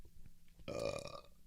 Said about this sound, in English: now I'm burping a lot